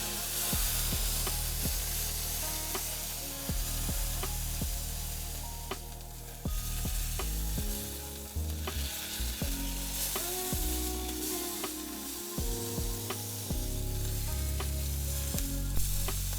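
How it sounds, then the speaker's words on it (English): A steak sears in a hot pan, giving a steady, close sizzle that runs throughout beneath background music, with a brief dip near the middle. "Now it's time to give our steak a sear on the side."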